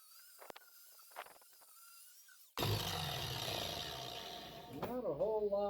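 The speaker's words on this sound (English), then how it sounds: "I'm going to hit him with a wire wheel to start with, see what flies off" A wire wheel grinding a bronze bear sculpture during metal chasing: after a quiet stretch a loud, steady abrasive whir starts abruptly and runs to the end, with a tool pitch wavering near the close.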